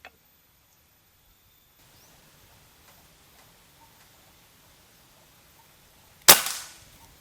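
After several seconds of near silence with faint ticks, a single sharp air gun shot from a 500 cc PCP air rifle cracks out loud and close, then decays quickly.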